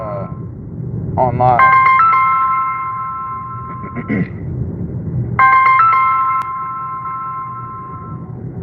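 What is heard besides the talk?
phone ringing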